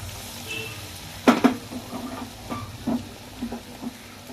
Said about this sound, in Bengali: এই যে দেখুন ব্যাটারে দিয়ে আমি এইভাবে ব্যাটারটা লাগিয়ে নিয়ে আমি তেলে ছেড়ে দিচ্ছি